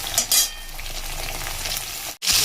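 Two medium-sized tomatoes fry in hot oil, giving a steady, close hiss and crackle that runs almost unbroken, then cuts out for a moment before resuming.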